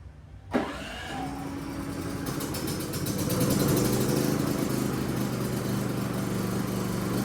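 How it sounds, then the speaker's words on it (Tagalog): A Philking inverter-type backup generator starts on its own during a power outage: a sudden cranking burst, then the engine settles into a steady, loud hum that rises slightly and holds, with no one talking. "Dapat kusang mabuhay yung ating generator."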